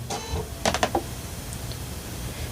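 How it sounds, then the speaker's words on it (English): A sewing machine stitching fabric a quarter inch from the edge gives a brief, quiet burst of rapid mechanical ticks, a few sharp clicks over soft background hiss. "I am going to turn this and stitch 1/4 inch on the opposite side."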